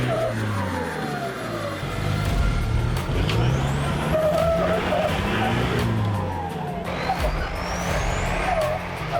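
Car driven hard into the Glasshouse course, engine roaring loud and close with rising revs, tyre squeal and skidding over a rough, continuous rumble for several seconds.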